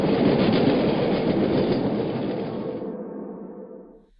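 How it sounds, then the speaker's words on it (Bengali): A train running through the night, a loud rolling rumble of wheels on rails that holds steady and then fades quickly near the end, with no voices. "সেখানে একটি ট্রেন ছুটে চলেছে সমস্ত অন্ধকারকে ভেদ করে এক অচেনা"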